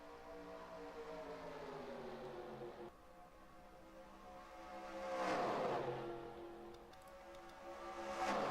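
IROC race cars at Daytona in NASCAR Racing 2003: a steady engine drone with rising and falling pitch as cars pass, one swelling closer around the middle, moderately loud with no talk.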